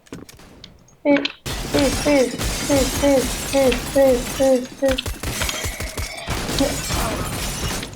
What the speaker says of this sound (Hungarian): Én kilőttem az összes üveget, hogy mások ne lőhessék.